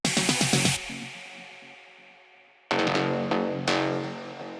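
Bass shot in a melodic techno track, heard in the silent bar before a drop: a loud, heavily reverbed low hit that fades slowly, between bursts of rapid distorted stabs, no talking.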